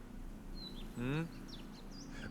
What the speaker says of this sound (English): It's lovely out here. The birds singing, the bees buzzing.